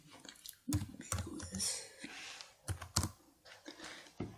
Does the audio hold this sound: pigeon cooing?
no